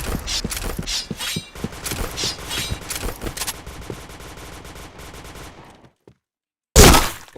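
Dense rapid gunfire bursts from a tactical shooter game, with a brief silence and then a sharp, loud blast near the end.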